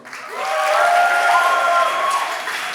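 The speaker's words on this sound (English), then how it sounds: "your applause." A festival audience applauds after a talk, loud and dense clapping that swells quickly and holds steady, with a crowd's faint cheering mixed in.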